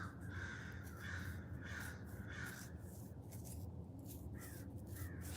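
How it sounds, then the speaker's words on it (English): A flock of crows perched in trees over a rural property, giving repeated harsh caws at a steady rhythm, some fairly close and others farther off, over constant low outdoor background noise with no talking. "There is a legit murder of crows over my property now."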